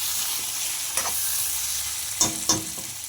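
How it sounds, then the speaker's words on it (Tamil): A spoon stirs beans curry frying in oil in a pan, with a steady close sizzle and a few sharp scrapes and clinks of the utensil against the pan. "இந்த டைமில் ஒரு கலக்கிட்டு நல்லா கொஞ்சம் கலக்கிக்கோங்க"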